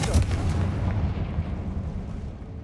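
A Confringo fire spell blasting in the video game Hogwarts Legacy: a sharp, heavy burst at the start that rolls into a dense, booming rumble and slowly tapers off.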